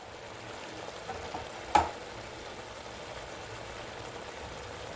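Ground coriander and cumin frying in a pan for Kodi Kura chicken curry, a faint steady sizzle throughout with one sharp click near the middle and no talking.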